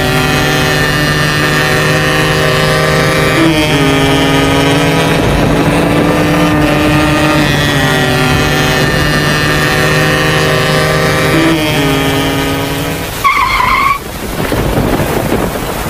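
Motorbike speeding along in an Indonesian school animation, a steady loud engine drone with shifting pitch, held for about thirteen seconds before a brief dip and swell, with no talking over it.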